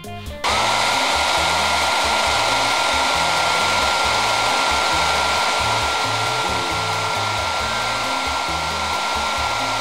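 A hair dryer blows hot air onto an Oreo whose cream has been swapped for a white marshmallow. It switches on after a brief pause into a loud, steady whooshing whir that runs continuously up close.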